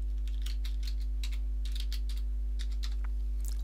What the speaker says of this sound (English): And password, I shall enter one.